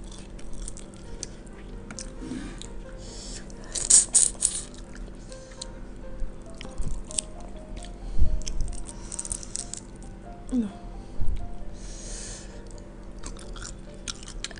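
Someone eats boiled shrimp dipped in sambal with basil, with soft wet chewing, squishy bites and occasional crunches close to the mic over a quiet background, and no talking.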